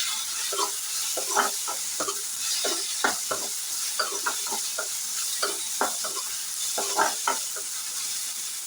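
Pirandai (adamant creeper) stirred and fried with salt and turmeric in a pan, a steady sizzle beneath repeated scraping strokes of a spoon, close and fairly loud throughout.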